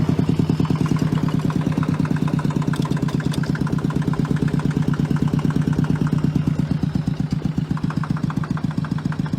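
A Fendt Fix 1 tractor engine idling close by, a steady, even low chugging pulse with rapid regular firing beats throughout, moderately loud and unbroken.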